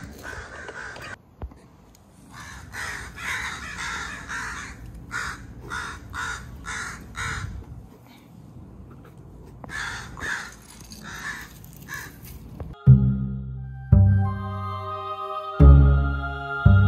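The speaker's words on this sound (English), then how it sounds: "I found a baby crow and I don't know what to do." A baby crow caws in repeated short bursts, close and fairly loud, with pauses between calls; louder clattering knocks arrive near the end.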